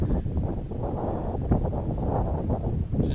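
Wind gusts outdoors on a hot day along a desert highway, a low, rumbling buffet against the microphone that stays fairly faint and fluctuates throughout.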